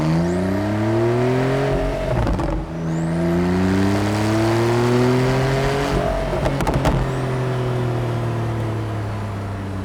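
A loud Porsche 911 Carrera 4S (991.2) engine revs up and down in long sweeping pulls, with brief crackling bursts between revs, close and continuous.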